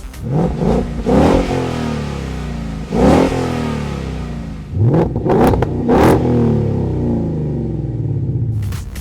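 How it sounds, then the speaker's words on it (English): A Ford Mustang GT with a Magnaflow Competition cat-back exhaust revs in several sharp, deep bursts that roar up and settle back to a rumbling idle between blips, loud and close. "So take a listen and hear how it sounds compared to your factory exhaust."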